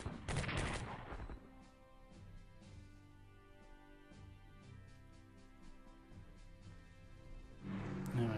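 Anti-tank cannon fire in the World War II strategy game Strategic Command: World at War, with a sharp blast at the start, a rumbling tail that fades over several seconds and another report near the end.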